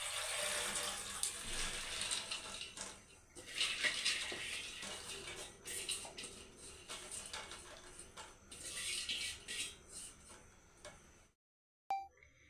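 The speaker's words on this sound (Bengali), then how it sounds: "ডালটা ভালো করে ধুয়ে নিতে হবে।" Soaked black urad dal and kidney beans being washed in water, a faint close sloshing and trickling with light clicks, steady for about eleven seconds before stopping.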